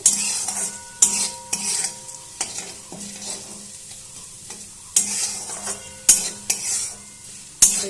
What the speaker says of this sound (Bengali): আবারও ভালো করে ভেজে নেব